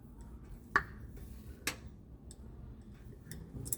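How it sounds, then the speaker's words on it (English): A handheld socket wrench snugs up bolts during a fuel pump install, giving a few sparse, close ratchet clicks with gaps between them in a quiet space. "now we just gotta snug all these up with our little handy dandy socket"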